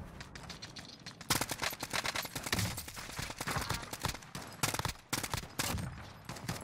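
Dense rapid-fire bursts of gunfire from the video game Warzone crackle almost continuously, loud and close, with short gaps between volleys.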